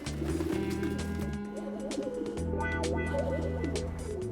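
Pigeons coo in repeated low, throaty phrases, close and clear, with layered calls overlapping and a few brief pauses between bouts.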